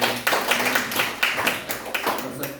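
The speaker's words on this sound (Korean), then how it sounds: "우리 환영의 박수가 드리겠습니다" Church congregation clapping in welcome during a Sunday worship service, a loose run of claps at moderate volume with voices mixed in.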